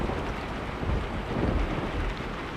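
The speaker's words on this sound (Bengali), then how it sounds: "ঝিরিঝিরি বৃষ্টি পড়ছে।" Light drizzling rain falls in a cartoon ghost story set near an old banyan tree, a faint, continuous soft patter over a low rumbling wash with no voices.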